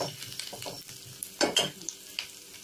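Egg devil chops fry in a pan over moderate heat, giving a soft, faint sizzle with a few light scrapes and clinks of a utensil against the pan, close by and unaccompanied by speech.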